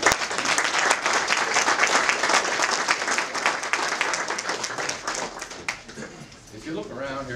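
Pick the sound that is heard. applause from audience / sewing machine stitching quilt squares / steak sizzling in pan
applause from audience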